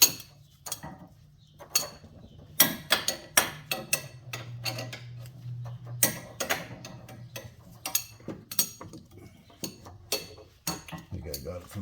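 Control arm bolts are tightened on a 2007 Hyundai Santa Fe with ratcheting clicks, metallic clinks and tool taps in irregular bursts, close by, with a low hum underneath and brief talk.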